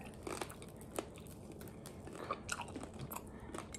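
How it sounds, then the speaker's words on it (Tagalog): Crispy pata, deep-fried pork leg, crunched and chewed up close in a few crisp bites scattered through a quiet stretch, with no talking. "Kainan na natin yung crispy pata."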